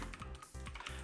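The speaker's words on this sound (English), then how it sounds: "I've pressed the wrong button on my keyboard." A few quick clacks from typing on a computer keyboard, close and fairly quiet, with no voice.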